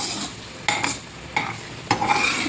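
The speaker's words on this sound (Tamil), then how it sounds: "நல்லா சட்டியிலே ஒட்டாமல் வரணும்னு கிண்டிடுங்க." Tomato thokku being stirred in a frying pan so it stops sticking: three or four distinct scraping strokes of a spoon against the pan over a soft background sizzle, close and clear, with no talking.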